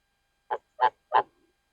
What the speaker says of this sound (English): This goose is the friendliest goose I've ever met in my life.